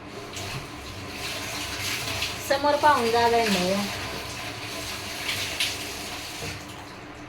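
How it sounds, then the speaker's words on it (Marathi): Water runs steadily from a household tap indoors, a constant wash of noise underneath a voice and someone speaking nearby. "नळ बंद कर"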